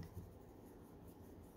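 A block eraser rubs back and forth over a pencil drawing of mountains on paper, producing a soft, quiet, continuous scratchy scrubbing close to the microphone, with no voices.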